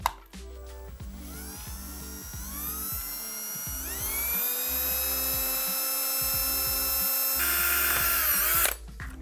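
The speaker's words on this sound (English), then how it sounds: "I'm gonna start off with a pilot hole" Power drill boring a 1/8 inch pilot hole through an interior panel during an accessory mod, a close, loud whine that starts in stutters, then rises and holds steady for several seconds before stopping, with no talk.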